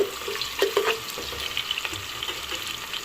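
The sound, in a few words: chopped onions frying in a pan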